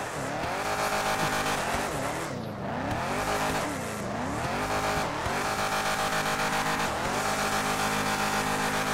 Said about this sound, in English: Focus on the car sliding.